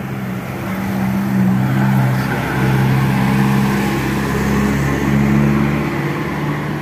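Cars drive at night in Cajamarca, Tolima, heading up toward the line, a continuous loud engine rumble and road drone that swells and fades as vehicles pass close by.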